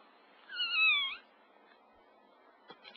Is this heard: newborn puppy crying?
yes